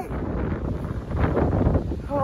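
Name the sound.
strong wind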